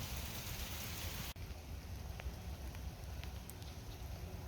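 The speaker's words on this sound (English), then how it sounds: "it's definitely raining" Light rain drizzles at a nature center in Racine with an even hiss and occasional soft drop ticks; a brief cut partway through, then the steady patter continues faintly.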